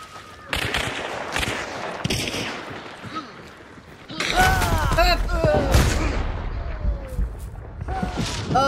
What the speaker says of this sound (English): The bomb lance!